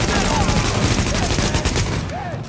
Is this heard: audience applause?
no